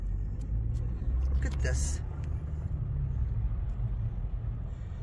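A car drives slowly through flood water on Route 66, with a steady low engine and road rumble throughout and brief splashy hiss. Someone speaks briefly over it.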